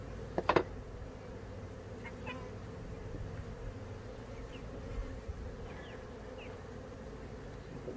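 Honey bees hum in a faint, steady drone during a hive inspection, with a couple of brief sharp knocks near the start and no talking.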